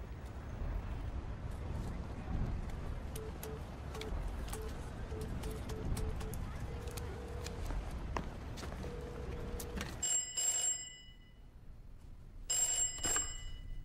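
Telephone ringing in a dubbed science-fiction film, a few short high rings near the end over a dense, noisy background that drops out abruptly between the rings.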